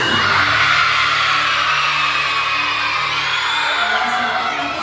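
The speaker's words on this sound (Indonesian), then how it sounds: "teriak hore yang kencang" A loud crowd of children shouts hooray together at a Maulid Nabi celebration, a sustained wall of high, excited voices close by that slowly tails off.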